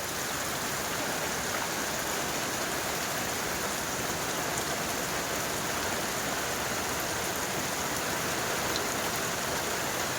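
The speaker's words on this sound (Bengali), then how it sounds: "বাইরে প্রচণ্ড বৃষ্টি হচ্ছে" Heavy rain pours steadily outdoors in a Sundarbans village at Satjelia, a dense, continuous hiss that holds even and unbroken throughout with no voices.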